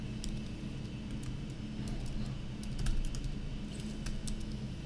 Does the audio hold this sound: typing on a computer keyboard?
yes